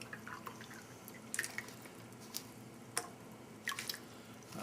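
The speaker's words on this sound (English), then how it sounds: "We'll pour in about 12 ounces of it." Water from a 16-ounce bottle is poured into a military MRE pouch, giving faint, intermittent drips, splashes and soft squishy crinkles against a quiet background. No one speaks.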